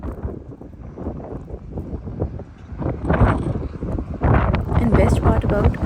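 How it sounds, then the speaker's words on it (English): Snowstorm wind blowing at around 100 km/h in Ontario, Canada, roaring and gusting close to the microphone and growing louder toward the end, with a person talking over it. "The speed of the wind was around 100 kilometers per hour. Just listen to the sound."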